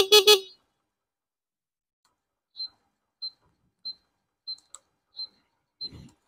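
A custom 50cc motorbike's small horn gives a series of short, high, thin beeps spaced about half a second to a second apart, after a brief louder burst at the start.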